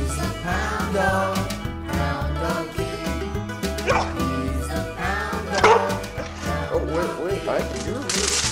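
A dog yips and barks in short bursts over loud, steady music, with a whining, wavering cry near the end.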